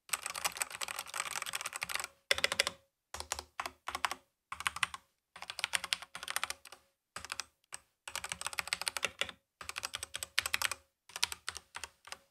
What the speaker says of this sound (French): quand on prend ce genre de clavier, eh bien, c'est pour le bruit des touches. Alors, je vais vous faire écouter.